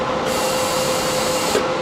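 Aluminum TIG welding machine running while the arc refuses to start, a steady loud electrical buzz with a constant high whine throughout, close and uninterrupted.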